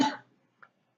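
A single short cough, close and sharp, followed by a faint small throat sound before silence.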